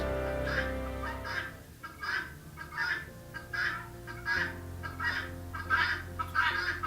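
Guinea fowl give a steady series of harsh, rhythmic two-note cries, fairly close and growing a little louder, over a faint low background rumble.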